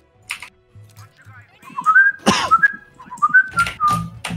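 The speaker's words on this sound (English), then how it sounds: "What are you whistling at?" A person whistles a short, bright tune in several sliding, warbling phrases, with voices and light noises nearby.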